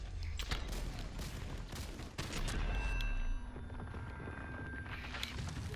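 Gunfire in a video game during an attack on a forest house: dense bursts of shots and booms over a loud, continuous battle background.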